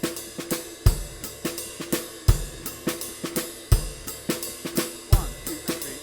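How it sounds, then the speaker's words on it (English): A drum kit plays a steady 4/4 groove alone: a low kick and sharp snare backbeats repeat evenly at close range with cymbal taps between, no talking. "we end up with like a nice little 4/4 groove."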